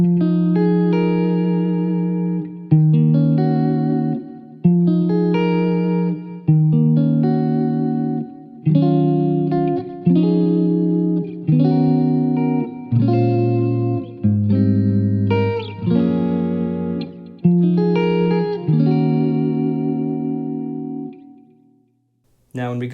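Clean neo-soul electric guitar voiced to imitate a Fender Rhodes, with reverb and eighth plus dotted-eighth delay, plays a sequence of rich chords, each strummed attack blooming and echoing before the next, closing with a brief tail.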